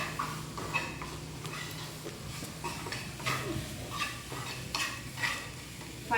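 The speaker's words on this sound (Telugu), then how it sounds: "కొంచెం లైట్గా ఫ్రై చేసుకోవాలి" Stuffing frying lightly in a pan while a utensil stirs and scrapes it, a soft steady sizzle under repeated close clinks and scrapes, with no talking.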